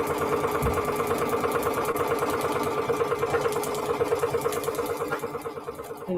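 A sewing machine stitching through fabric for paper-pieced quilting, a steady, fast rhythmic mechanical chatter and whir running close and continuous without any talk.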